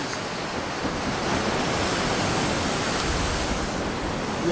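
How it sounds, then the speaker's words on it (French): Ocean waves surge onto the shore at Puerto de la Cruz, Tenerife, a broad continuous roar of surf with wind buffeting the microphone, steady and fairly loud with no voices. "Il y a des vagues."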